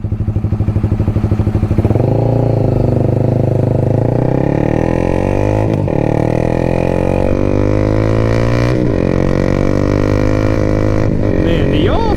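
A Honda Rebel 300 motorcycle, about 24 horsepower, rides along a rough street, its engine loud and close with a steady drone that rises and shifts as it accelerates and changes gear.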